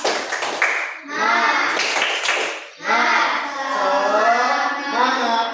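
Schoolchildren in an elementary classroom doing a rhythmic spirit clap, with sharp patterned claps at the start and around two seconds, mixed with loud children's voices chanting together.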